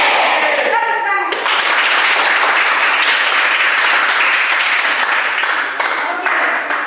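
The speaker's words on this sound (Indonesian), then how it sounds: "Tepuk tangan." A class of children claps hands together on cue in a classroom, a burst of dense clapping that swells quickly and holds steady, with brief voices at the start and end.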